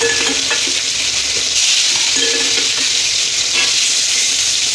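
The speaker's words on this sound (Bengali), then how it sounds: "তেলটা গরম হয়ে গেছে, এবার তেলের মধ্যে আমি এই মাছ ছেড়ে দেবো।" Hilsa fish, just slipped into hot oil for a light fry, crackles with a loud, continuous close-up sizzle and occasional faint utensil clinks.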